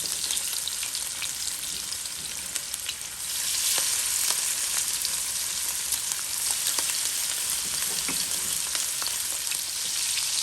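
Shrimp fry in about four tablespoons of hot oil in a non-stick pan, a close, continuous sizzle with scattered pops and crackles that grows a little louder partway through.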